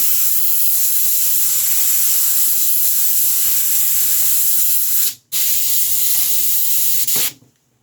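An airbrush lays a base coat on a 1/6-scale Predator sculpture with a steady close hiss of spraying air. It cuts out briefly once and then stops near the end.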